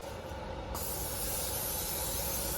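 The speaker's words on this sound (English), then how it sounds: "Ooh, that's a lot of spray." Cooking spray hisses onto a cake pan in one long, continuous, loud burst, close by, with a bright airy spray sound that keeps going throughout.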